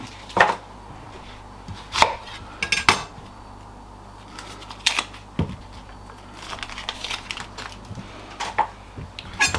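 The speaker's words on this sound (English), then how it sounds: "Now, I'm chopping the root completely out." A knife chops an onion on a cutting board in scattered sharp knocks, some in quick pairs, close up in a quiet kitchen.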